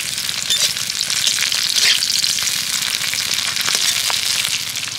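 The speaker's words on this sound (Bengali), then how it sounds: "পেঁয়াজটাকে ভেজে নেব" Onion with chopped green chilli and curry leaves fries in hot oil, a loud, close, continuous sizzle with scattered crackles and pops and no speech.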